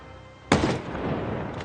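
A single loud sniper rifle shot fired next to a fence in Project Zomboid, a sharp crack followed by a decaying echoing tail.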